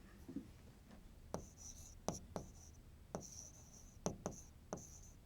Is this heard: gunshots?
no